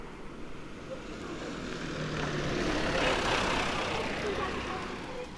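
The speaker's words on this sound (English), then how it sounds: "not a dump truck, garbage truck" A Japanese garbage truck passes on a street in Japan, its engine rumble swelling to a broad, loud roar at the middle and then easing slightly as it goes by, with no talking.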